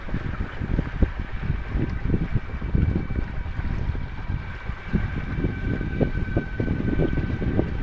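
Steady wind roaring across an open electric boat, with low rumbling gusts and buffeting noise on the microphone throughout, no voices.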